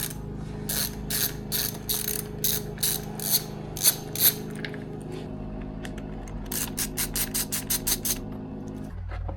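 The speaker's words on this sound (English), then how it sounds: "Continuing with a T27 bit, keep removing the panels." Ratcheting tool clicks in repeated bursts while a T27 Torx bit removes body panels on a KTM 690 Enduro R motorcycle, with short rapid clicking runs, pauses and a second quicker burst near the end, close and fairly loud.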